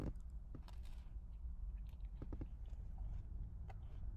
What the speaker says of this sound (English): We're gonna get one bite, perfect bite